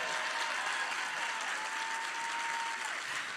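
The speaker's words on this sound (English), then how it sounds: "Applaud, applaud." A large convention theatre audience at PAX East applauds, dense continuous clapping that stays even and fairly distant for a few seconds, with a faint tone running beneath.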